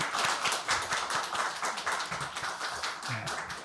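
A church congregation claps together in blessing for a deacon after a prayer, a dense, steady patter of many hands filling the room for several seconds with a few brief voices underneath.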